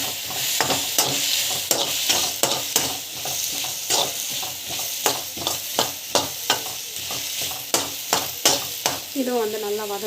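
Mint and coconut sautéing in a pan for coconut pudina chutney, with a steady sizzle and repeated sharp stirring scrapes at an irregular rhythm, close and fairly loud, no talk.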